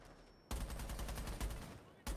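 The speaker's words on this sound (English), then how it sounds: "Servant taking a little bit of damage from a pre-fire from Boomin" Gunfire in a Rainbow Six Siege match bursts in as a dense, continuous rattle of shots lasting well over a second, followed by a fresh burst at the end, with game noise underneath.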